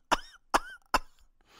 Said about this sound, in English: I coughed and hacked dramatically